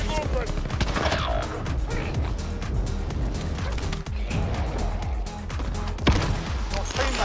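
Rapid gunfire bursts fill a Call of Duty Warzone Zombies match, sharp repeated shots crackling almost continuously with loud hits, while players talk over the action.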